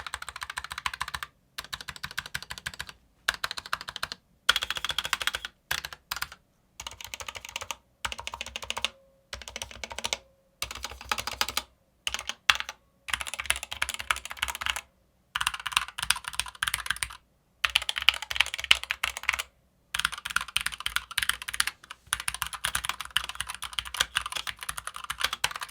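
Someone types on a SteelSeries Apex 9 gaming keyboard in quick bursts of crisp key clicks and clacks, separated by short silent pauses, close up and with no voices.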